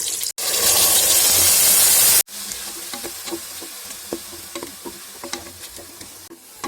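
Ground masala of coconut, fennel, pepper and ginger frying with onions in a pan for banana flower biryani. A loud hissing burst comes first, then a quieter sizzle broken by repeated stirring clinks and scrapes.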